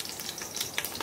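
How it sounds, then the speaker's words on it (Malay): Lemongrass is sautéed in a pan for a Nyonya mee laksa, giving a soft, steady sizzle and crackle with a few small pops, alone and fairly quiet. "Lepas tu saya tumiskan kita tumiskan apa ni serai ni supaya dia bangkit bau dia."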